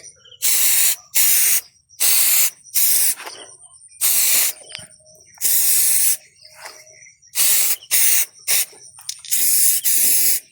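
A hand sprayer hisses in short, bright bursts, about a dozen in an uneven rhythm, spraying a vegetable garden, with quiet gaps and faint birdsong between them.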